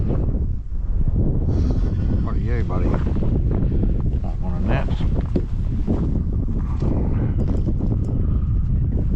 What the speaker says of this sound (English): in this gross conditions, horrible wind and that sort of thing